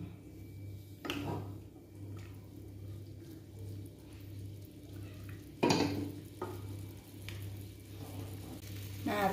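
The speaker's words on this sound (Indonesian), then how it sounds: "Kita bakar ayamnya di atas teflon." Chicken grills over a low flame in a Teflon pan, a quiet steady sizzle with a low hum beneath and two sharper utensil scrapes or clatters along the way.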